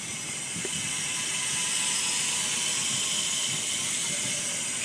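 A Primo cassette hub freewheels as a BMX bike wheel spins, giving a steady, dense ratcheting hiss that runs close and fairly loud through the whole stretch, with no talk over it.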